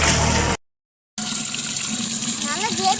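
Water gushing into a vessel at a village tap, a steady splashing pour that stops briefly and then resumes, loud and close, with a voice talking over it near the end.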